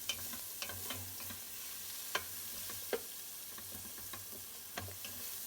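Chopped garlic and ginger stirred around a pot, with soft scraping and a few sharp clicks of the spoon against the metal over a low, steady sizzle, close and fairly quiet.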